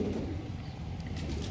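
Pigeon of the Salara/Kalpara breed, a 14-year-old bird, cooing close by in a low, continuous murmur with some soft rustling, no talk.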